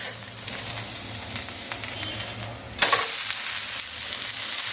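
Rice flour ghavan crepe frying in oil on a nonstick griddle sizzles steadily and close, with a sharper hiss burst partway through, and no talk.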